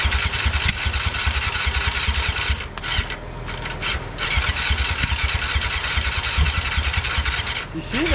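A 600cc motorcycle engine revs and runs roughly and loudly, sputtering briefly before catching again, with voices talking nearby.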